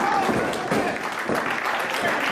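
Wrestling crowd in Bridgewater, Massachusetts cheering and clapping steadily throughout a tag-team independent match, a dense, sustained roar of applause with swells, a commentator talking over it.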